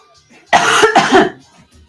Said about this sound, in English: It's picking up your coughs